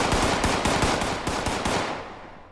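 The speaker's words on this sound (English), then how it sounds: "You're shooting at me?" Automatic gunfire in the game Fallout 76: a fast, steady burst of loud, close shots that runs for about two seconds, then thins and fades out.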